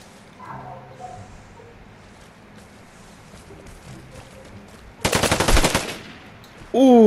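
Gunfire in the shooter game Vigor: a loud close automatic burst erupts after several seconds of quiet ambience, followed by another sharp shot at the very end.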